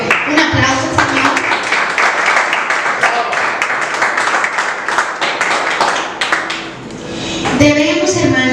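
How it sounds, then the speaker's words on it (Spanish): A church congregation gives a round of applause, a steady, moderately loud patter of many hands clapping that thins out toward the end before a voice resumes. "Un aplauso, Señor."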